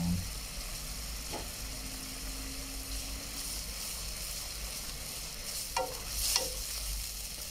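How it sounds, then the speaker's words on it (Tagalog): Coconut milk sauce for ginataang tilapia seasoned with crushed pepper simmers in a pot with a steady soft bubbling hiss, while a spoon stirs it, giving a few faint scrapes and clicks near the end. "pag medyo kumulo na po siya, halu-haluin lang muna natin"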